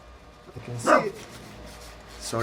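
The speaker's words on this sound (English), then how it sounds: "that's my dog." A pet dog named Stella gives a short bark burst near the middle, close and moderately loud, with someone speaking briefly before and after in an indoor room.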